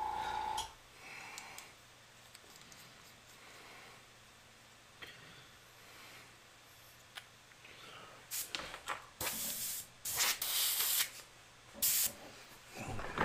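An airbrush with a slightly clogged fluid nozzle, faint hiss at first, then several short, loud spray bursts close by toward the end.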